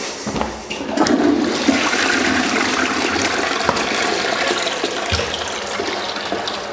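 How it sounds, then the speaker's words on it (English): Toilet flushing in a home bathroom after cleaning, a loud rushing gush of water swirling and draining, with gurgling and refill hiss continuing steadily, close up and without voices. "Flush it all away."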